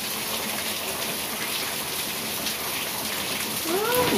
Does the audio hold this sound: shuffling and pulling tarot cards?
no